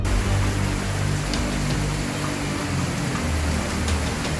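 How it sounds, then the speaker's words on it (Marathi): Heavy rain driven by stormy wind in the Vaibhavwadi area of Konkan, a dense, steady roar of downpour and gusts that fills the whole clip without letup and without voices. "वादळी वाऱ्यासह मुसळधार पाऊस झाला"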